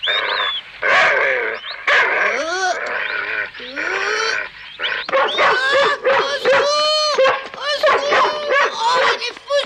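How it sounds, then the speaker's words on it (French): A dog bursts into repeated loud barks and yelps close by, mixed with excited, overlapping cartoon voices shouting over the commotion. "Oh, il est fou ce chien!"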